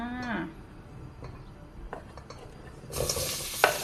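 Onion stir-frying in leftover egg-frying oil in a pan, with stirring scrapes and a sizzle that swells louder toward the end; a brief voice sounds at the start.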